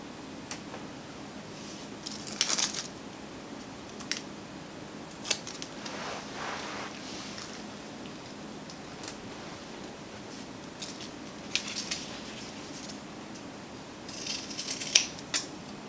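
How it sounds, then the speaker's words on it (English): Fabric strips for an ottoman being cut with scissors, scattered close snips and soft slicing strokes at an uneven pace, with quiet handling noise between cuts and a denser flurry toward the end. "I'm going to be just cutting strips and attaching them under the table."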